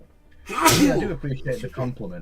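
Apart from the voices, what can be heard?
sneeze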